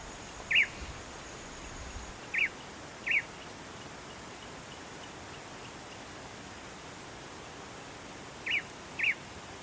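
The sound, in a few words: eared pygmy tyrant calling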